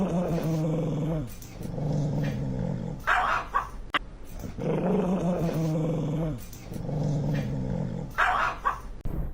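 A dog growls and grumbles in low, drawn-out rumbling bursts with brief pauses, fairly loud and close, with some higher yelping whines mixed in.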